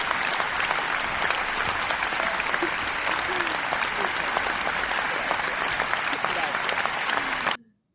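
A studio audience applauds loudly and continuously, dense clapping filling the space for several seconds before cutting off abruptly.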